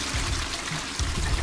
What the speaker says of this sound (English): hop into the toilet while you flush the toilet